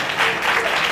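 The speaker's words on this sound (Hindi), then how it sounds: "परमेश्वर की वायदा की वजन का क्यों ना हम ताली बजा के हम धन्यवाद करें।" Church congregation clapping together in praise during a sermon, a dense, loud burst of applause lasting under a second.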